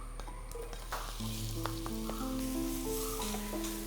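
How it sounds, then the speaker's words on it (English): Sliced onions frying in hot oil with browned ginger and spices for a vegetable korma, a soft steady sizzle with faint stirring clinks throughout. "now we are going to add the sliced onions"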